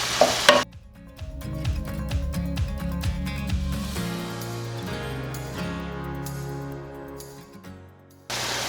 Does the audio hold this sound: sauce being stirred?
yes